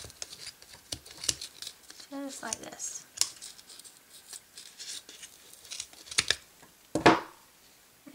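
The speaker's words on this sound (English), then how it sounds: "you can slip your scissors right up under there and cut it" Several quick scissor snips cut through yarn close by, mixed with rustling and handling noises while a person talks.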